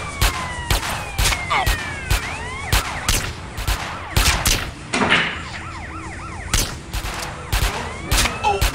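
Gunfire in GTA Underground set in Liberty City, sharp loud shots cracking repeatedly in irregular bursts over a wailing police siren and sweeping background noise.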